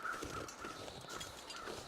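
Crows cawing in the snowy wilderness of the survival game The Long Dark, a few faint, distant harsh calls repeating at intervals over a quiet windy background.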